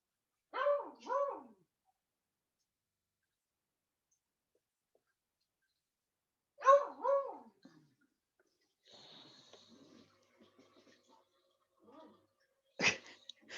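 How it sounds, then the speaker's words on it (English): A beagle standing by a table barks at its food bin: two sharp double-bark bursts, a brief pause, then another pair, followed by quieter snuffling, scratching and a final short yelp, close and fairly loud. "The beagle is literally standing next to the table where I put his food bin so that he couldn't get it, and he's barking at it"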